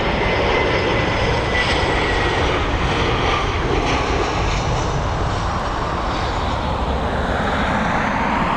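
An airliner lands at Dublin Airport, its jet engines producing a loud, continuous roar with a broad rushing texture that holds steady throughout.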